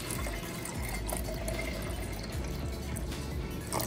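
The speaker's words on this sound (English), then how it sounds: "If I pour it into this container, think in your head what shape it's going to make." About 500 milliliters of water is poured steadily into a container, giving a continuous close splashing and gurgling rush throughout with no talk.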